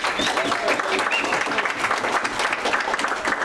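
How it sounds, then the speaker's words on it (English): An audience at a county Republican men's club dinner gives a steady round of applause, many hands clapping densely at moderate level with no talking over it. "please give yourselves a round of applause for being here"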